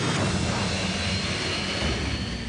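Jet engine on a jet-powered pickup truck rated at 5,000 pounds of thrust, roaring loud and steady from up close with a broad, constant blast that holds unbroken throughout.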